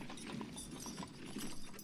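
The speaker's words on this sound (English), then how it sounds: "Nice horse transport. Very modern." Horse-drawn transport units in the Order of Battle: Panzerkrieg war strategy game give a faint, steady clip-clop of hooves under a dull background rumble.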